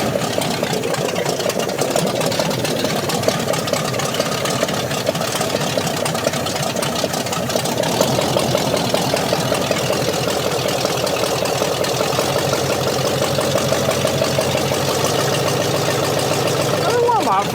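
A scrapped Jeep Cherokee's 360 V8 engine idles steadily and loudly while warming up, a low rumbling drone with no revving.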